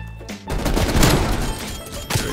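Chaotic gunfight in Call of Duty: Black Ops Cold War, including an LMG: loud, dense overlapping automatic gunfire bursting continuously at close range, with a final sharp shot near the end.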